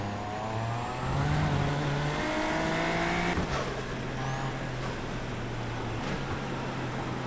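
Super Formula Lights open-wheel race car in the iRacing sim on a wet track, its engine droning steadily with rising and shifting pitch, close and continuous throughout with no talking.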